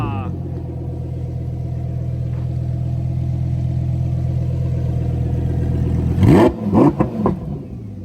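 Lamborghini Huracan Tecnica engine held against a soft limiter, a steady loud droning rev for several seconds that cuts off into a few crackling pops near the end.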